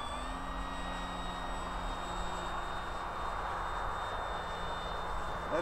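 An FMS PA18 Super Cub RC model airplane flies steadily, its small electric motor giving a continuous whine with a thin high tone, moderately loud and unbroken without talk.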